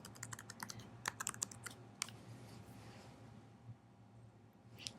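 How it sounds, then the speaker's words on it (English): Quiet, irregular keystrokes tap on a computer keyboard, a quick cluster of clicks followed by a few isolated presses over a low steady hum. "on this page you're going to type in your username that you use for first class"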